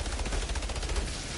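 Turret gunfire in the Outriders game, a rapid steady stream of close, loud shots filling the whole short stretch.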